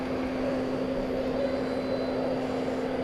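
American Airlines airliner departing Dallas Fort Worth for San Jose, a steady, moderately distant engine roar with a constant hum, no voices.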